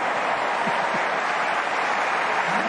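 A home Melbourne Stars crowd at a Big Bash League cricket match applauds Hilton Cartwright reaching fifty, a dense, steady wash of clapping and cheering that fills the stadium without a break.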